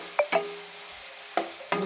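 A sweet-potato-like tuber sautéing in a pan, with a few quick scraping stirs and soft clatters over a faint, steady sizzle, close by and without talk.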